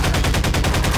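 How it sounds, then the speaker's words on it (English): Enemy machine-gun fire in the video game Half-Life 2, a loud, fast, evenly spaced stream of shots filling about a second, close and alone. "he's shooting at me."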